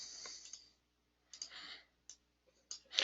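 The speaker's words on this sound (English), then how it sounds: "I'll click OK" Several quiet mouse clicks on an OK button in flow cytometry software, scattered singly and in small clusters with pauses between, close and faint with no talking.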